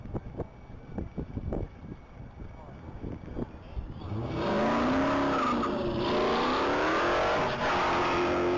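A 2015 Dodge Challenger launches hard off the starting line at a top-speed mile event, a loud rising engine rev climbing through gears with tire noise and wind buffeting, after some earlier thumps and clatter.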